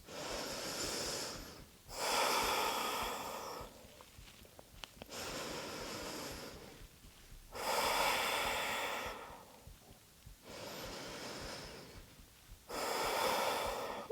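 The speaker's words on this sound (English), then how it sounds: "hold here for a few deep breaths, sending the breath into the stretch" Deep, slow yoga breaths held in a stretch during an advanced vinyasa flow class, heard as about five loud, airy inhale and exhale bursts separated by short quiet gaps, close and alone with no talking.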